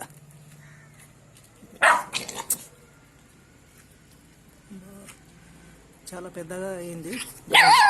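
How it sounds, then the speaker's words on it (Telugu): A mother dog barks in short bursts and whimpers near an injured puppy, mixed with people talking over it. "తల్లి కుక్క"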